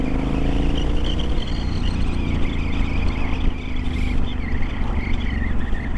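A Triumph Scrambler 1200 XE motorcycle fitted with a Vance and Hines exhaust runs on the road, giving a loud, continuous engine drone with steady low rumble and shifting pitch throughout.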